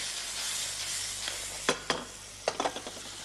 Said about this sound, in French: Et là, on va mouiller avec un peu de bouillon.